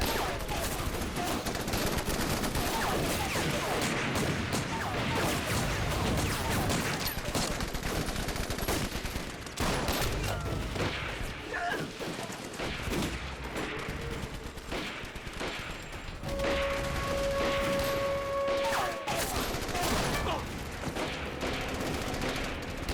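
Dense, continuous gunfire fills a battle scene from a Vietnamese anti-Japanese action film, with rapid machine-gun bursts and overlapping rifle shots, loud throughout, briefly easing before resuming with a ringing tone.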